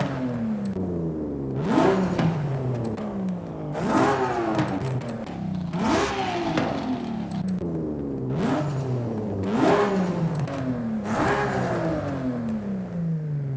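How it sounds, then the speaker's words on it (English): A Toyota Supra Mk4 in Forza Horizon 5 with different exhaust options revs hard about six times, each rev climbing sharply then falling away, in a steady rhythm of roughly two seconds, close and loud throughout. "let's go ahead and listen to the exhaust, because each exhaust in this game does sound different."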